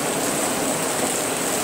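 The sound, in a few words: heavy rain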